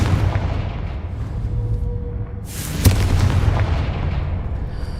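A single sharp Confringo spell blast in Hogwarts Legacy bursts out loud and close midway, trailing a rumbling decay over a low background roar.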